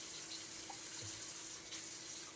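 Kitchen tap running steadily into a sink during hand washing, a constant close splashing hiss with small shifts as hands move under the water.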